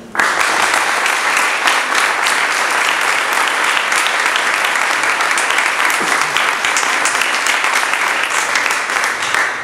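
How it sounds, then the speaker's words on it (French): Sustained audience applause for the candidates at a Paris award ceremony, loud and dense clapping that continues steadily without a break for the whole stretch. "on peut les applaudir"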